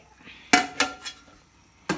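Sharp metallic clanks of a lid settling onto a large pot of braised chicken, three quick knocks followed by a pause and one more clank, fairly close.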